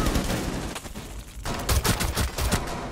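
Bursts of video game gunfire crackle in quick succession, dense rapid shots dropping out briefly and then resuming loud and close.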